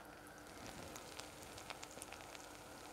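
Fish deep frying in hot oil gives a faint, steady sizzle with scattered small crackles and pops throughout.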